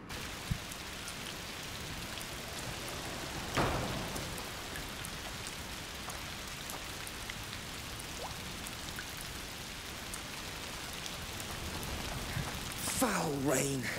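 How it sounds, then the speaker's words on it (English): Steady heavy rain hisses throughout in the video game A Plague Tale: Requiem, a dense patter on surfaces, with a couple of brief louder knocks and a faint voice near the end. "Foul rain"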